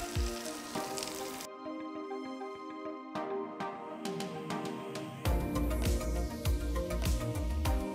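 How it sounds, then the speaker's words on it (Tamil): Sliced shallots frying in ghee and coconut oil with mustard seeds and urad dal in a home kitchen, giving a steady sizzle with popping crackles that swells louder toward the end, with no talking. "கடுகு பொரிச்சதும் 1 கப் மெலிசா நறுக்கின சின்ன வெங்காயத்தை சேருங்க."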